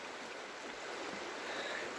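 A creek in the Adirondacks flows steadily with a soft, even rushing wash of water, faint and continuous, with no voices.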